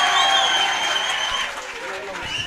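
An audience at a stage drama applauds a boy brought up on stage, with clapping spread through the hall while raised voices and talk carry over it, fading slightly toward the end.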